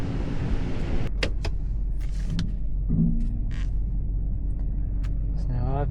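Tow truck reversing toward its wheel lift with airbag suspension inflated, a steady low engine rumble running throughout with a few brief clicks and knocks, and speech over the top.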